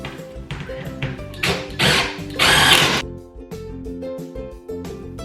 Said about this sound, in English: I'm just going to continue to go around the whole piece, putting nails in until I feel like it's properly secured